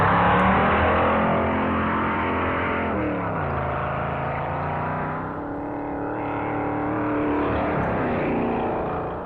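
Pontiac stock car at the 1957 NASCAR Daytona Beach road course drones past in a steady roar, pitch shifting as it passes, heard through a muffled, lo-fi recording with no talk.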